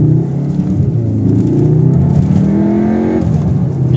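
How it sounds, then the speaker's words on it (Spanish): A Stage 1 tuned CUPRA León VZ with a big turbo and DSG gearbox revs hard, its engine roaring loud and close in a sustained, rising drone with no one speaking over it. "Es brutal el motor que han hecho. Y con el turbo grande."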